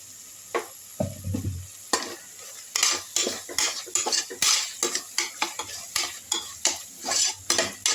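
Chicken biryani masala with yogurt is sautéed in a pressure cooker, a spoon scraping and knocking against the metal in a quick repeated rhythm over a soft sizzle, close up with no voices.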